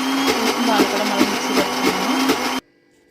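A mixer grinder blends peanut and coconut chutney with grated coconut, a loud steady whir with rhythmic pulsing that runs for about two and a half seconds and then cuts off abruptly into silence.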